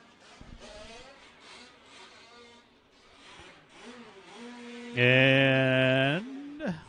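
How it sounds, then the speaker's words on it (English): 1/5 scale nitro RC race cars are running on a track. Engines whine and rise in pitch at a distance, then one car passes close and loud, buzzing sharply for about a second before fading. "Track still live, got cars still going."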